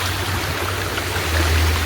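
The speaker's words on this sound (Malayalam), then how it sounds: "ഇതിലൂടെ അങ്ങനെ വെള്ളം ഒലിച്ചു പോകുന്നുണ്ട്." Water trickles and flows steadily in a stream beside the Oliyathumpara waterfall at Mezhathur, a close, continuous wash with a low rumble underneath and no voices.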